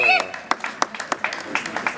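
Scattered claps from guests at a civil wedding ceremony, a handful of sharp, separate hand claps spread over a couple of seconds, with a voice briefly audible at the start.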